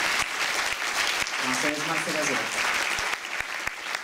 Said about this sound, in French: Et sur vos applaudissements